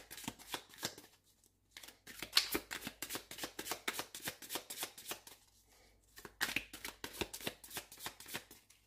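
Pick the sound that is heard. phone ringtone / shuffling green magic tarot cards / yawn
shuffling green magic tarot cards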